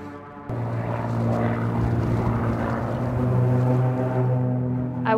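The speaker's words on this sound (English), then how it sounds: "I also hear a plane right now" Propeller airplane droning overhead in the Alaskan wilderness of Katmai National Park, a steady low engine hum that swells slightly and holds for several seconds, moderately near, with no other prominent sounds.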